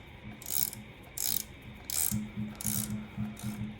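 Burr assembly of an N500 coffee grinder being screwed in by hand, giving repeated bursts of close, crisp ratcheting clicks in a steady stop-start rhythm.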